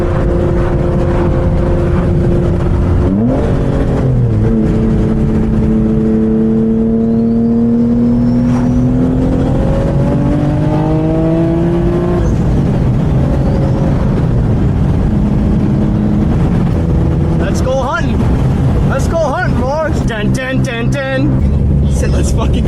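A twin-turbo Infiniti G37 drifts sideways, its engine droning loudly and rising in pitch through sustained revs, close and constant, with a burst of rapid sputtering and popping near the end.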